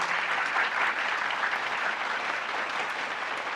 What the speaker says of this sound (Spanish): Denle un aplauso al Señor nuestro Dios